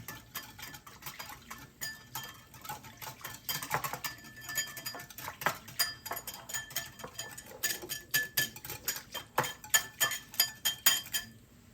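Yeast and sugar are stirred in a bowl with a utensil. It gives a run of quick, close clinks and scrapes that grow louder and more rhythmic over several seconds, with no talking.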